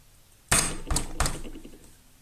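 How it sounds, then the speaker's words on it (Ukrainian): A tin of sardines is opened for a sardine salad in a home kitchen, with three sharp metallic clicks and snaps close by, the first loudest, followed by a brief scraping rattle and no talking. "Тепер беремо ось сардини. Відкриваємо."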